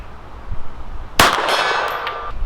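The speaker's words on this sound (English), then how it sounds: "Start with the silver gong on the left." A Girsan MC14 BDA .380 pistol shot strikes a silver steel gong target at 50 yards: a faint distant report followed by a sharp, bright metallic clang that rings on for over a second.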